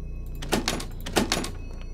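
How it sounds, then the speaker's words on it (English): A locked door is tried in the horror game Paranormal Entities, set in an insane asylum: two short bursts of handle rattling and clunking, close and fairly loud, with no one speaking. "Why are none of the doors opening?"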